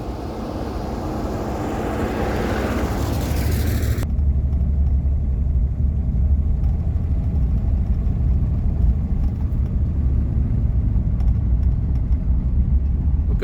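A cheap, rough-running Rolls-Royce car drives along, its engine and road noise forming a heavy, continuous low rumble from inside the cabin, with a brief voice early on.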